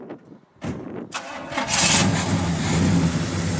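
A 1967 Pontiac GTO engine cranks briefly, then fires and catches into a loud, rumbling idle that settles steadily, heard up close with no talking.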